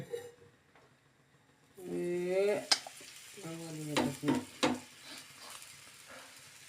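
A dosa frying in oil on a pan, with a soft sizzle, a couple of squeaky scraping strokes and a few clattering taps, close and moderately quiet.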